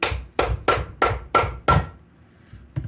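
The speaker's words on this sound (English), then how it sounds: "Get a hammer, just tap it." Six sharp metallic taps of a hammer in a steady rhythm, close up, on a hot tub circulation pump during seal and motor bearing replacement, followed by a pause and one more tap; no voices.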